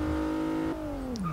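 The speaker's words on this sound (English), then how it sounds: "And the engine is a drone, quite frankly. It does not sound good at all." Plymouth Prowler from 2000 in Forza Motorsport 6, a 253-horsepower engine droning steadily at high revs, then easing off as pitch drops near the end; loud, close and alone with no talk.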